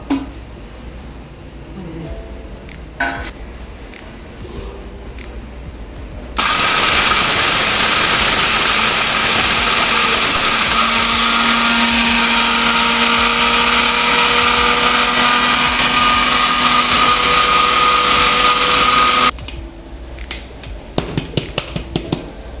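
An electric grinder powdering whole spices into garam masala, running as a loud, steady high-pitched whirring roar for about thirteen seconds and then switching off. Quiet kitchen handling sounds come before and after.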